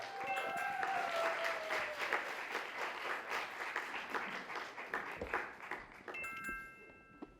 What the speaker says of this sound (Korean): 우리 학생들을 박수로 맞아주시기 바랍니다